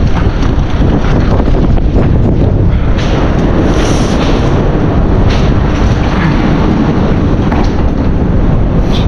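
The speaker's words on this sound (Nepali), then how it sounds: "यो भ्यू टावर मुनि चाहिँ हल्का हावा चलेर जान आँट्यो" Wind blows beneath a view tower near old temples and buffets the microphone in a steady, close, rumbling roar that lasts throughout, with no voices.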